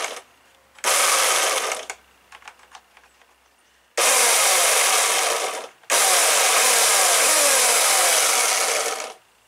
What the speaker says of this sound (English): using this electric chainsaw.